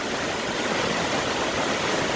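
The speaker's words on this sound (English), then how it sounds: "Just that wind coming off of the waterfall, but it's beautiful." Steady broadband rush of wind and spray coming off a waterfall on the Appalachian Trail, constant and fairly loud with no pauses or voices.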